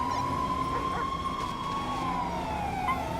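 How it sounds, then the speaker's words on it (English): A police dog in the GTA San Andreas game setting gives a drawn-out howl that rises and falls over a steady siren wail, both heard at moderate distance against a continuous background. "That is a dog."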